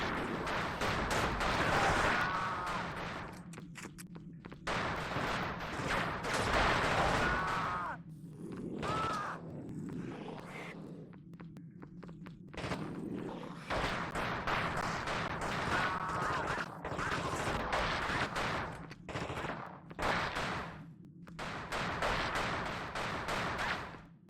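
Gunfire from the Xbox game The Thing, rolling bursts of shots and explosive booms that come and go across the stretch, loud and dense, with brief quieter gaps between volleys.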